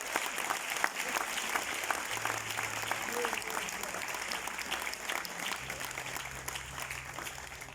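A church congregation at a Bible institute welcome service applauds in steady, dense clapping that fills the whole stretch, with a low hum underneath.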